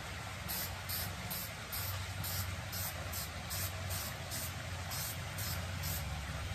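Spray paint hisses from a can onto a fishing lure in short, evenly spaced bursts, each a soft airy spray, over a steady background rumble.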